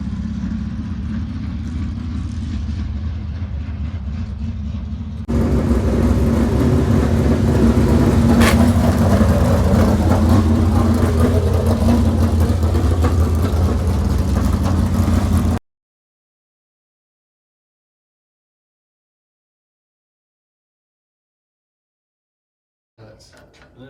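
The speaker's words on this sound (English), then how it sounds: "I think we're going to idle the carburetor down a little bit." A crate late model race car engine idles with its carburetor being turned down, a steady close mechanical rumble that rises slightly in level partway through before cutting to silence.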